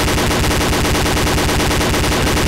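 Rapid automatic gunfire in the military shooter ArmA 2 with the ACE mod, a loud, dense, unbroken burst of rhythmic shots filling the whole stretch with no talk.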